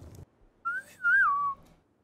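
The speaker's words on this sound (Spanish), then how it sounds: "¿Quién silbó?" A person whistles a short two-part tune, a brief note then a longer wavering one that slides downward, clear and alone.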